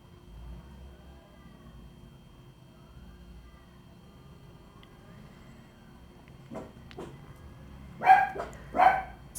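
Small pet dogs bark a few times in the background of a quiet room, short sharp yaps growing louder near the end.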